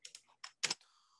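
A few crisp clicks on a computer keyboard and mouse while drafting in CAD software, close and quiet, several light taps followed by one firmer key press.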